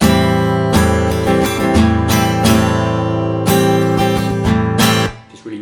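Guitar chords are strummed loudly and up close, with chord changes hit slightly early for an anticipated feel, ringing out and then stopping.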